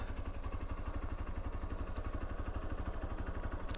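A motorcycle engine idles with a steady, rapid low thump, close and fairly loud, on arrival at a temple gate before the bike is parked.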